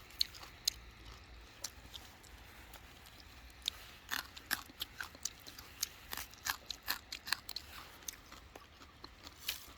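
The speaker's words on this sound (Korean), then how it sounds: "요거를 껍질을 까먹으면 되게 달달하고 맛있거든요" Close, crisp bites and chewing on a peeled wild plant stem grown as an edible green, coming in irregular crunchy bursts that grow denser in the second half, with quiet room tone and no talk.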